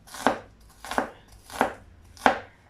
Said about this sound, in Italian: Anche questa me la trito un poco.